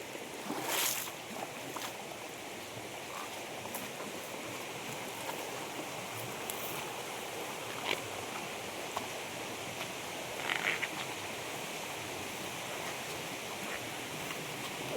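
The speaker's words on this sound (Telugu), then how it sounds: "అక్కడ కూడా వాటర్ అయితే వస్తున్నాయి జలపాతం నుంచి వచ్చే వాటరు" Continuous rushing of water flowing from a forest waterfall, steady throughout with a few faint clicks and knocks, no talking.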